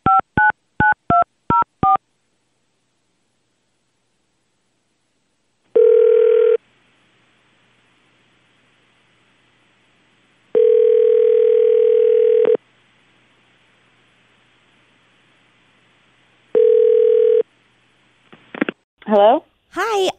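A telephone sounds a quick burst of touch-tone dialing beeps, followed by several long, spaced ringback tones, then a voice answers and people begin talking.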